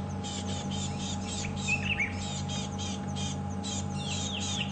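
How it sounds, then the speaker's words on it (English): Birds calling in alarm close by on a late-afternoon game drive at Djuma Game Reserve, with repeated sharp chirps and tweets over a steady low engine hum, no talking. "you can hear the birds giving the alarm call very close by."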